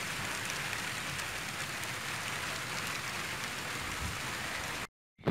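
Steady rain falls hard and close beside a snakehead fishing spot, a dense unbroken patter that continues alone until it cuts off abruptly near the end.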